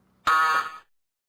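A single loud electronic game show buzzer blast, harsh and steady for about half a second, then silence.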